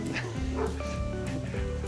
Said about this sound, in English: My dogs always love the neighbor's dogs.